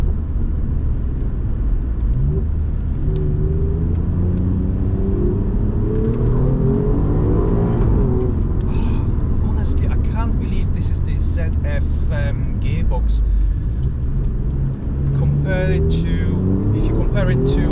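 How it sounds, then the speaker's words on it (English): Alfa Romeo Giulia Quadrifoglio accelerating hard, its tuned exhaust rising through the revs in repeated sweeping pulls with crackles at the top, loud and close, a voice speaking over the engine. "Alfa definitely did a good job tuning this exhaust system."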